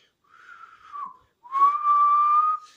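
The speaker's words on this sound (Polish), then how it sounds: "Zaświstał gwizdek." Two whistle tones sound close by, a softer short one followed by a louder, longer steady blast.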